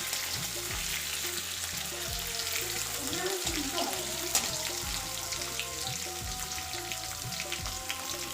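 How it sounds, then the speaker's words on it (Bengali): Paneer pieces fry in hot oil in a wok, a steady, close, continuous sizzle that lasts throughout, with faint background music underneath. "পনিরগুলোকে আমি একটু লাল লাল করে ভেজে নেবো।"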